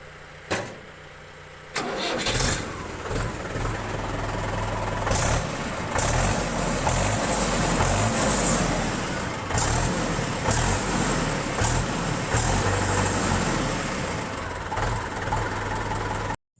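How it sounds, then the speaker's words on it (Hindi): A Mahindra 575 DI tractor cranks briefly, then its diesel engine catches and settles into a loud, steady knocking idle close by, running for the rest of the stretch without any talk. "तो दोस्तों, आपको इस ट्रैक्टर का साउंड कैसा लगा"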